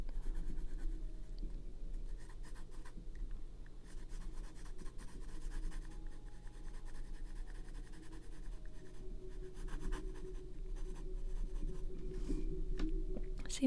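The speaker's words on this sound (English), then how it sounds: "now you can probably hear my pencil scritching" A pencil scratches steadily on paper while shading a drawing, a soft continuous close-up scritching texture with faint background hum and no talking.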